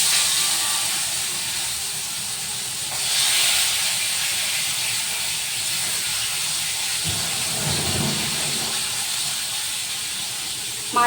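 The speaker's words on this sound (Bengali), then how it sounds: "মাছ ভাজা হচ্ছে" Fish sizzle in hot oil in a home kitchen pan, a steady close hiss that swells briefly with a louder spit of frying partway through.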